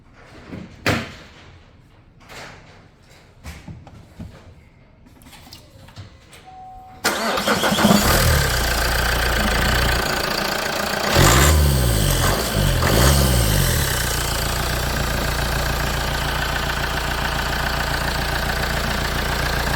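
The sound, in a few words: car engine starting and idling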